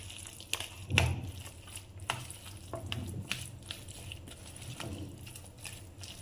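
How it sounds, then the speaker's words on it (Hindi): Ketchup being stirred and mixed into a chicken sandwich filling, with soft scraping and a few sharper clinks from the spoon against the bowl in an irregular rhythm, close and moderately quiet, with no talking. "थोड़ा सा इसमें केचप डालेंगे, 2 चम्मच। इसे भी अच्छे से मिक्स करेंगे।"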